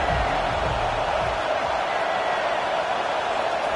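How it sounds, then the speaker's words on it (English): Stadium crowd roaring at an Iron Bowl college football game on third down, a dense, steady wall of loud crowd noise filling the whole stretch with no break. "Decibels rising as the crowd gets behind this defense on 3rd down"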